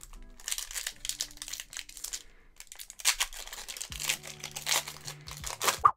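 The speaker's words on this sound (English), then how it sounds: "Jeeves, we haven't opened up Brilliant Stars for a long time" A Pokemon Brilliant Stars booster pack is crinkled and torn open up close, giving bursts of sharp foil crackling and ripping that come and go, with a low hum joining near the end.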